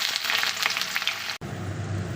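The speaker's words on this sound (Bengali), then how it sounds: "তেল গরম হয়ে গেছে, তেলের মধ্যে দিচ্ছি পেঁয়াজ কুচি" Chopped onion sizzles loudly in hot oil that was seasoned with whole garam masala and bay leaves. The crackle is steady with light spatter, breaks off sharply partway through, and a softer, even frying hiss follows.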